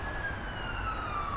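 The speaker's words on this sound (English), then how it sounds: "the occasional distant siren" A siren wails steadily in the distance over a constant city traffic hum, its tone gliding slowly downward for the whole stretch with no voices present.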